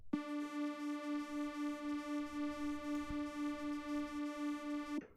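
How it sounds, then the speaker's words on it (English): A steady buzzy electronic tone with a regular wobbling pulse, as if sweeping back and forth between sides, played alone. "So you can hear the mid signal going from the left to the right"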